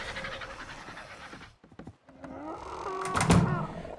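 Tamed dogs panting in the survival game Ark on the Crystal Isle map: quick, breathy huffing up close, with soft thumps and a brief lull midway and no talking.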